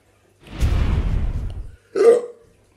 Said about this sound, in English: Yep, definitely got the hiccups.